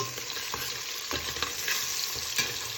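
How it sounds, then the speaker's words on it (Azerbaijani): Diced carrots and onions sizzle and fry steadily in a pan while a utensil stirs and scrapes in occasional soft knocks. "Mən indi onun içinə doğradığım sarıkökü əlavə edirəm."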